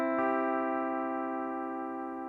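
Guitar strings ringing with a Slideking lever engaged, one sustained chord struck once and left to decay slowly, clear and close, with no voice.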